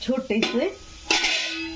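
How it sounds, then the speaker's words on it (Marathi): A small metal plate is set down inside a pot on a gas stove, giving one sharp clank with a short ringing tail after a brief stretch of nearby speech. "छोटंसं ताट ठेवायचं आहे"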